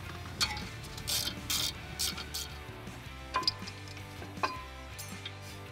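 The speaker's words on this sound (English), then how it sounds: "The clips click in just like your original caliper" Brake pad clips snap into a car brake caliper, several sharp metallic clicks and small ticks in an irregular sequence, close and fairly quiet over a low hum.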